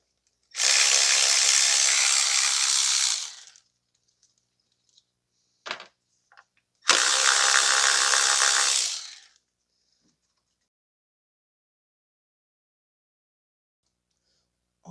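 A handheld power screwdriver works on the ignition coil bolts of a 2017 Toyota Corolla 1.8, with two loud whirring bursts of about three seconds each and a few brief clicks between them in an otherwise quiet space.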